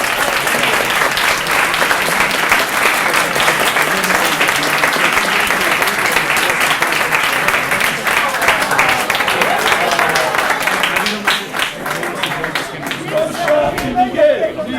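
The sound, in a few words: audience applause for departing guests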